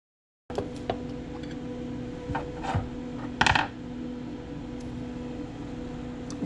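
Small metal screws from a 240W surface wax blocker drop into a little tub, a few sharp clinks and rattles in a quiet room with one brief louder clatter near the middle.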